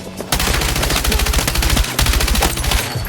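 Automatic light machine gun fire in a Call of Duty match, loud and close: a long sustained burst of rapid rounds, a brief break, then a second burst that keeps going to the end.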